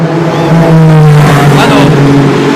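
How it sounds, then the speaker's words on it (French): A Porsche number 1 race car at Le Mans during qualifying, its engine droning with steady tonal harmonics as it pulls into its pit box, loud and close with a slight pitch drift. "La Porsche numéro 1 rentre dans son box."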